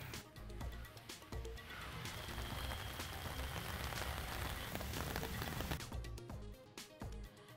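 Heavy rain pours steadily over Pune, a dense, continuous hiss of water striking surfaces with scattered sharper drops and splashes throughout, with no voices.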